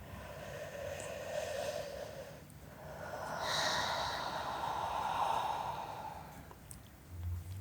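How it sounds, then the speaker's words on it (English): Slow, drawn-out breaths in and out from a person, soft and close with a gentle airy hiss rising and falling over several seconds. "Let's take a breath."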